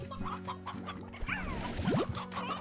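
Chickens cluck in the Slime Rancher video game, a few short bursts over steady background music and game sounds, with no talk.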